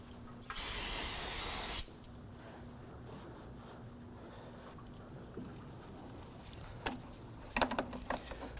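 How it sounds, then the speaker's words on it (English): Spray solvent blasts onto a car battery terminal on a 2008-2011 Ford Focus in one loud hiss of about a second and a half, followed by quieter clicks and handling noises of the tool work. "Use some spray solvent on that terminal"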